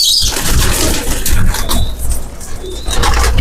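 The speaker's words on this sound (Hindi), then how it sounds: "हाँ ये जीरा कबूतर है" Zeera pigeons, alongside black and crested (topidar) pigeons, coo in low repeated calls through steady outdoor background noise, with a few faint higher chirps and no talking.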